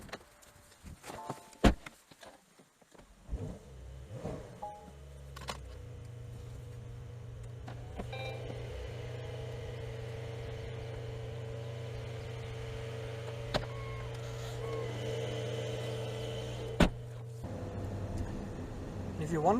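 A 2022 Porsche 911 Targa Edition 50 Years Porsche Design pulls away and cruises at low speed with the roof closed, a steady low engine drone with some clicks and thumps early on, heard from inside.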